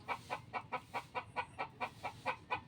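A chicken clucks close by in a quick, even series of about a dozen short clucks, steady in rhythm and moderately loud, with no talking.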